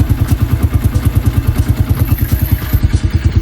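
A 110 dirt bike engine idles nearby, loud and steady, with a fast, even thumping pulse and a rattling edge that runs without a break.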